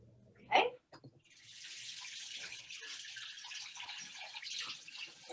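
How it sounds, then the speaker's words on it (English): Tap water runs quietly into a pot being rinsed out after making hot cocoa, a soft steady splashing hiss following a brief clunk at the start. "We're going to rinse out our pot very quickly."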